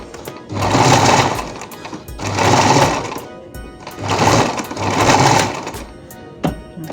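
Loud mechanical whirring and clattering of an old, rusty, unoiled sewing machine stitching in four bursts with short pauses, harsh and rattly, close by.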